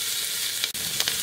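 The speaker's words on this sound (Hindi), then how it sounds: "फुल फ्लेम पे ही मैं प्याज को 1 मिनट भून लूंगी" Finely chopped onions frying over full flame for a broken wheat and soya chunk pulao: a short burst of loud, continuous hissing sizzle with a couple of brief stirring clicks.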